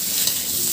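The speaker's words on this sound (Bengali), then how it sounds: "এই যে মশলাটা কষাচ্ছি" Spice paste being fried and stirred in a pan for a rohu fish and potato curry, giving a brief steady sizzle with soft stirring close by.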